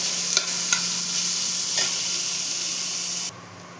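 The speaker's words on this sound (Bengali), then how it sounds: "পেঁয়াজটা প্রথমে লাল করে ভেজে নিতে হবে।" Two medium chopped onions fry in a pan for bhuna aloo masala, giving a steady close sizzle with a few sharp scrapes of stirring early on before the sound stops abruptly.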